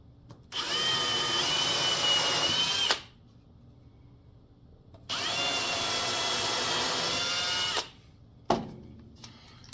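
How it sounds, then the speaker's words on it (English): Two long, loud bursts of a high-pitched power drill whining as it drills pilot holes into wood, each a few seconds with a pause between, followed by a short sharp knock. "Drill some pilot holes."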